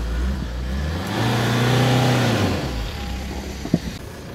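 Off-road car engine revving hard on the throttle during a trip on rough Jura tracks, a close rising and falling roar lasting a few seconds with a short knock near the end.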